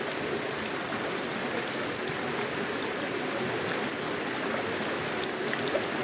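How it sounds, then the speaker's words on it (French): Heavy rain pours steadily at an outdoor construction site where beams are being set and concrete poured for a treehouse, a dense, even hiss of downpour with no breaks, close and constant throughout. "il pleut vraiment énormément"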